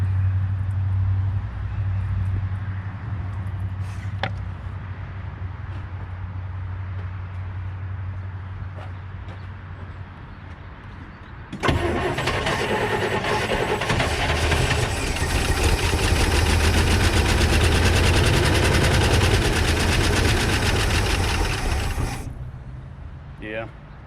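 A 1979 International Scout II engine that has sat over 20 years is cranked without fuel. A loud, steady mechanical churn runs for about ten seconds and then stops, following a quieter low hum.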